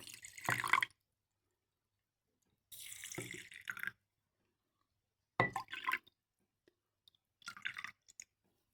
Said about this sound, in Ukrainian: Тепер залю водичкою. Заливаю водичкою.